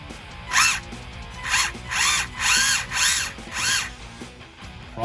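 The motor of a Tamiya Midnight Pumpkin RC truck gearbox, under restoration, is blipped in five short bursts, each a rising and falling electric whine with a meshing gear buzz. The bursts are close and evenly spaced, and there is no talk.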